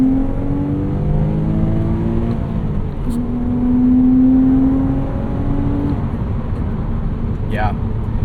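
A 2011 Porsche Cayman 987.2 Base with a six-speed manual pulls hard, its engine note climbing in pitch, dropping at a shift and climbing again, heard from inside the cabin. Someone talks over the engine.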